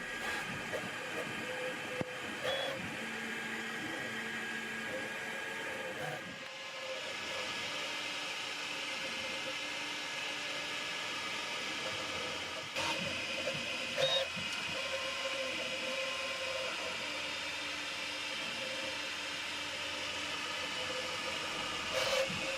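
A 3D printer lays down office-table furniture for an architectural model, its steady mechanical whirring and faint stepper tones running continuously with small clicks and shifts throughout.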